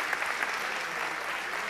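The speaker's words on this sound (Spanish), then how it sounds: "Démosle un aplauso, otro aplauso más enorme a Guibert Encleven" An audience at a Campus Party keynote talk claps in sustained, dense applause, steady and fairly faint, filling the hall without speech over it.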